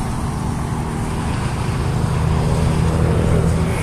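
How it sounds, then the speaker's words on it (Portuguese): A Volkswagen Gol turbo hatch passing on the street and shifting gear, a loud steady engine and road rumble that swells slightly as it goes by, alone with no talk. "Olha o golzinho, vai dar marcha. Turbão."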